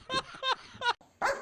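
A dog barks in a village, giving four short, sharp, fairly close barks spaced about a third of a second apart, with a brief quiet gap before the last one.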